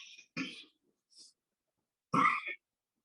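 During a quiet spiritual discourse on the Yoga Vasishtha, someone gives a couple of short, faint coughs and a throat clearing, separated by silence.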